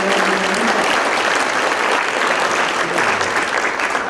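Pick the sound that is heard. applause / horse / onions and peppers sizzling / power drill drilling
applause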